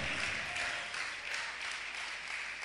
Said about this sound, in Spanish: Suéltale ese aplauso fuerte a Dios.